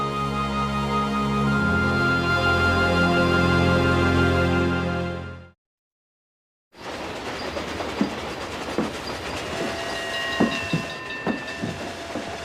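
A train runs on rails with a loud, sustained rumble and whistle-like tones. It cuts to a second of silence, then rattles on with clickety-clack wheel beats and metallic squeals.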